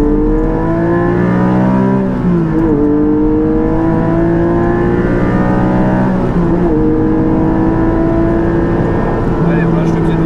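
Porsche 718 GT4 with an Akrapovic exhaust accelerating hard on track, loud and close, engine pitch climbing through gears with brief dips at shifts, a continuous roar from start to end.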